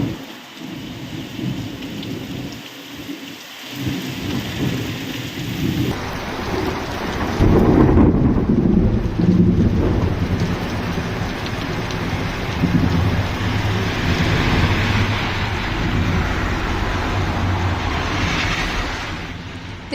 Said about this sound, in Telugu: నాగలాపురం, సత్తివేడు మండలాల్లో భారీ వర్షాలు కురుస్తున్నాయి.